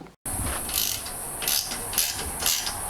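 Ratchet wrench clicking steadily on suspension bolts of a BMW E36 323i strut and knuckle, close and loud, in quick repeated bursts with no talking.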